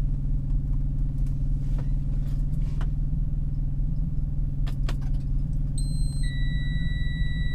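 A snowplow truck's diesel engine idles steadily on a 0°F night, a low continuous rumble with a few faint clicks and, near the end, an electronic beep tone.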